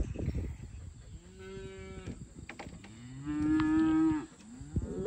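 Several weaning calves and cows on a farm moo in turns, one long low moo building to a louder, drawn-out call, with rustling and shuffling around them outdoors.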